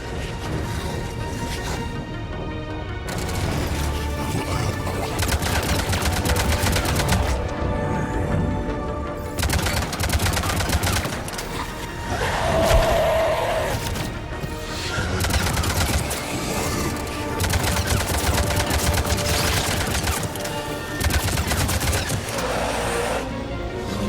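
Sustained battle noise from Mass Effect Legendary Edition, with repeated weapon fire and impacts running loud and dense throughout, mixed with game music and effects.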